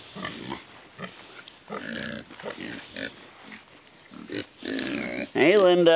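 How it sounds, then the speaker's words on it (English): Pigs on a farm grunting and snuffling in short repeated bursts near the microphone, with a steady high hum behind them and a person speaking over the end. "the pigs are going to love having all of these vines to eat."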